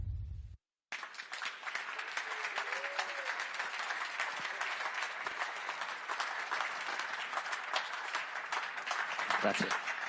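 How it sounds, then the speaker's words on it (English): Audience applause at the 2019 Mission Winnow Ducati MotoGP team launch presentation: sustained, dense clapping from a large crowd lasting several seconds after a brief pause, steady and loud throughout. "I'm glad we got a round of applause"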